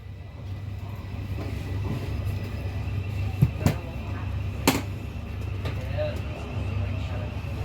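A Southeastern Class 376 electric train runs along the track with a steady low rumbling drone heard from inside the carriage, broken by a few sharp clanks and squeals from the rails.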